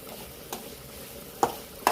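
Masala frying in a pan for chicken fry, a steady soft sizzle with three brief stirring scrapes spaced through it, close and moderately quiet.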